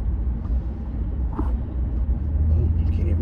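A car's engine drones as a low, steady rumble from inside the moving vehicle, its deep hum holding constant with faint rattles on top.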